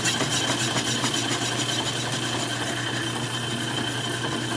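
A small lathe runs steadily while turning a part for a V-twin engine, a constant close mechanical hum and whir with a light rattle and no voices.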